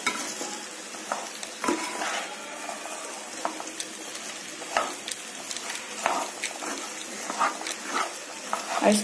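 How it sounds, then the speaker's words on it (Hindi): Chopped okra sabzi with onions, about two kilos, stirred in a pan without water: repeated scraping and clattering strokes over a steady sizzle of frying, close and continuous. "इसे अब अच्छे से मिक्स कर लेंगे।"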